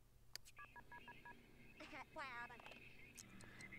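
Telephone keypad dialing in the video game The Sims 2: a quick series of short electronic tone beeps, followed by warbling phone tones, all at low volume.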